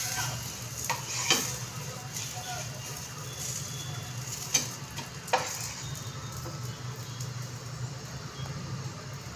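Finger millet dosa cooks on a hot pan with a soft continuous sizzle, broken by a few sharp clicks and scrapes of a utensil against the pan.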